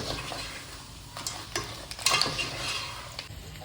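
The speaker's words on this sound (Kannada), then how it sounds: "ಇವಾಗ ಹಾಕಿ ಚೆನ್ನಾಗಿ ಮಿಕ್ಸ್ ಮಾಡುವ" Pieces of crab are stirred in a pan for a Kundapura-style crab sukka, giving soft scraping and light sizzling with a few clinks of the spoon, fairly quiet and close.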